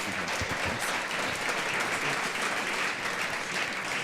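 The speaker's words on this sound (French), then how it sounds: "on peut les applaudir" A panel audience at a mobile payment and mobile commerce round table in Paris breaks into dense, steady applause that fills the whole stretch at an even level, with no voices over it.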